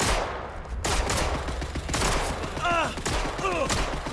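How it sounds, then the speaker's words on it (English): Gunfire rattles in bursts through a quiet, hazy outdoor scene in the game Atomfall, with scattered sharp thumps and a few whistling, chirping tones drifting over steady low ambience. "What are they shooting at?"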